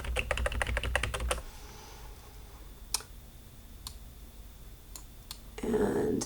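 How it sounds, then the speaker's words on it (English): Rapid typing on a computer keyboard, then sparse single presses of the arrow keys, a few sharp isolated clicks spaced out over quiet, ending in a louder rustle. "I'm using the arrow keys on my keyboard in order to move this down."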